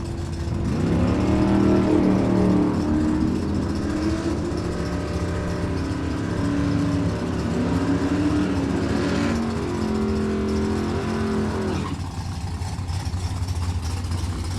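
A GMC Sonoma and a Camaro race at a drag strip, engines droning loud and steady with wavering pitch as they accelerate, then the roar drops off abruptly near the end.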